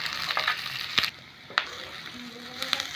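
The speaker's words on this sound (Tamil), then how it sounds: "வெங்காயம் நல்லா ஒரு 5 நிமிஷம் நல்லா வதங்க விடுங்க" Onions sautéing in a pan for Tamil poori potato masala, a soft sizzle broken by a few sharp scraping clicks of stirring near one second and again near the end, close and moderately quiet.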